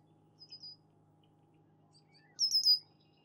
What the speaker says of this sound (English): It's the male red-winged blackbird.